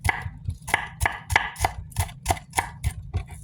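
A knife dices home-grown tomatoes on a board in about a dozen sharp, evenly spaced chops, close and clear with no talking.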